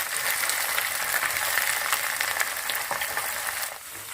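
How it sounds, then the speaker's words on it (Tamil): Marinated anchovies (nethili) fry in hot oil with a steady, close hiss and crackle that holds evenly, then eases slightly near the end, with no voices. "ஆயில் வச்சு ஹீட்டான பிறகு அப்படியே 1 by 1 நீங்கள் போட்டு விட்டுருங்க."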